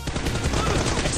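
Rapid gunshots in a PUBG team deathmatch, a quick dense rattle of shots lasting about a second, with a voice faintly underneath.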